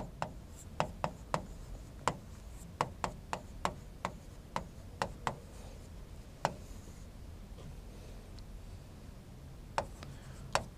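Chalk or marker writing on a board during a reasoning class for bank exams: a series of sharp taps and short strokes at irregular intervals, close and fairly clear over a quiet room.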